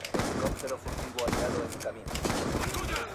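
Shotgun blasts and other gunfire pop repeatedly in a Call of Duty Black Ops 2 match, fairly quiet and spread out under a player's running talk.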